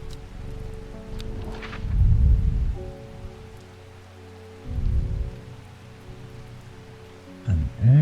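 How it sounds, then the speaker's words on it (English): Rain in the video game Strange Horticulture, a steady soft hiss with a few deep rumbling swells rising and fading. "A rainy day."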